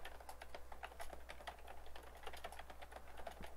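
Rapid, steady clicking of computer keyboard keys, close and fairly quiet, with irregular bursts of keystrokes over a low background hum and no voices.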